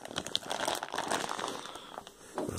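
A bag of play sand crinkles close up as it is handled, a dense run of papery rustles and crackles for a couple of seconds.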